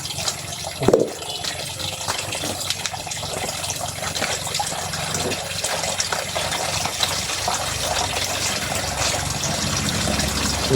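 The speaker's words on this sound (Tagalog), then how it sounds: "Sinasala po yung tubig bago pupunta po sa labas ng ano, sa ano, langgana." Water flows steadily into a basin after passing through a filter, a continuous gushing and trickling stream with a brief louder splash near the start, moderately close and without voices.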